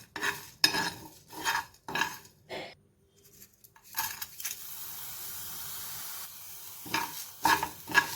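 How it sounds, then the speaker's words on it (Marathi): Jiravan masala spices dry-roasting in a pan, stirred with a utensil: a run of short, close scraping strokes, then a steady soft hiss of toasting with a few more scrapes at the end. No voices. "दोन 3 मिनिटं मसाला भाजते मी"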